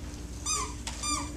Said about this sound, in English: and a yelping dog